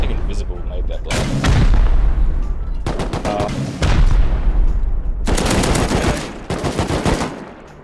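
Heavy blasts and bursts of gunfire in the survival video game Rust come in loud repeated waves, with weapon reports stacking over one another and a rumbling low end.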